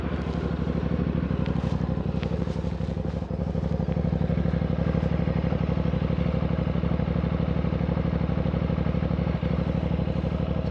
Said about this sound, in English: Got a nice little sound on that stock exhaust pipe.